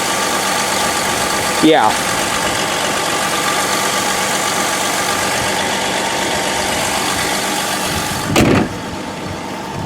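A 2004 Ford Freestar's 4.2 liter V6 idles steadily under an open hood, a smooth continuous engine hum heard up close, with a brief spoken word and a couple of short bumps over it.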